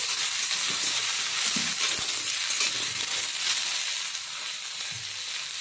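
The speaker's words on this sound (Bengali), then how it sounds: "ঝিঙে বেগুন দিয়ে আবারও নাড়াচাড়া করে নেওয়া হচ্ছে।" Ridge gourd and eggplant sizzle loudly and steadily in a hot pan, with soft stirring scrapes now and then and no voices.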